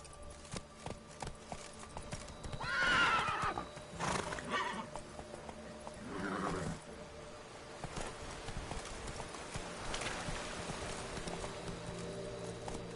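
Roach, a horse in The Witcher 3, whinnies loudly several times over steady clip-clop hoofbeats, with a rider urging it on between the calls.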